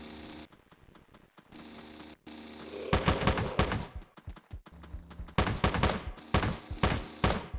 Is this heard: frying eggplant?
no